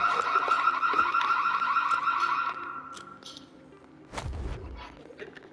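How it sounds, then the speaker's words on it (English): An alarm goes off in the video game Vampire: The Masquerade Bloodhunt, a rapid pulsing electronic tone that repeats for about two and a half seconds and then stops, followed by a low thud and a few faint game noises. "I like how that alarm is supposed to like alert other players"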